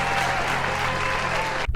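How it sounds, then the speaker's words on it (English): Dense applause from a crowd in the video game Kerbal Space Program, steady and loud throughout, cutting off abruptly at the end. "Can I get a round of applause, please?"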